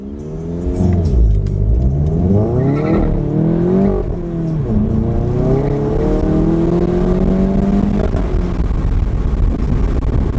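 A facelifted VW Golf MK7 accelerating hard on an empty road, its engine note climbing loudly through the revs, dipping briefly at a gear change, then pulling up again with steady, close exhaust roar.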